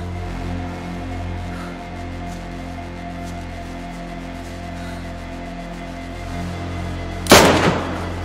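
A single loud gunshot crack in the DayZ Deer Isle game near the end, standing out sharply after several seconds of quiet ambient hum.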